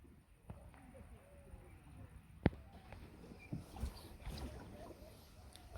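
A wooden boat is rowed through village water, with soft oar knocks and splashes, occasional sharp wooden clunks, and quiet water movement under faint wind noise.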